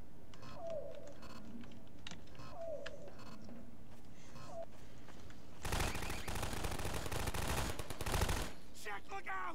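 Automated turrets fire in Half-Life 2: Episode Two during an antlion fight: brief rattles and clicks sound early on, then a dense, loud burst of rapid gunfire follows later, with faint game sounds in between.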